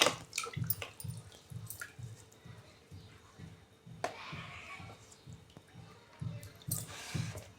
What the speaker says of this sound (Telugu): కొత్తిమీర కానీ ఇక్కడ కడుక్కోవాలి కడుక్కొని దాంట్లోకి వేసుకోవాలి